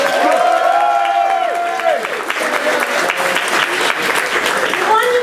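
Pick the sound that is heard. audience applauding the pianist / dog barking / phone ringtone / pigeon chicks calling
audience applauding the pianist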